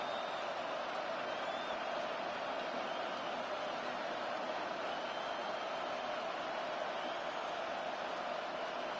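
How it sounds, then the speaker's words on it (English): Stadium crowd noise in Madden 26 American football rolls on as a dense, continuous roar from a large crowd during a late-game goal-line stand, steady and unbroken for the whole stretch. "This crowd doing all they can."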